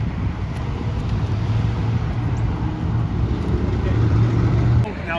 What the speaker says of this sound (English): Now look at the cars coming from over there.